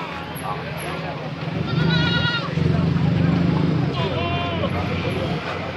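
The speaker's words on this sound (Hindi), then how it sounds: "छोटी रेंज का बकरा है।" Goats bleating at a crowded goat market in Peshawar, a couple of distinct bleats rising over steady crowd chatter and people talking nearby.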